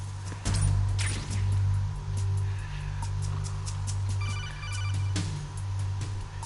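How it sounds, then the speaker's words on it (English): A phone rings in the video game Metal Gear Solid 2: a loud electronic ringtone with repeated trilling bursts over a low hum and game background noise. No one speaks over it. "Another phone call."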